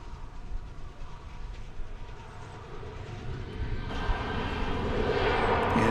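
A 22-year-old airliner arriving at DFW Airport after a flight from England, its engine roar distant at first and steadily swelling louder as it nears, a broad continuous rush with no talk.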